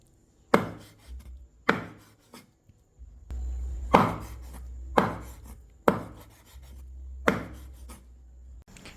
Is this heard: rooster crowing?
no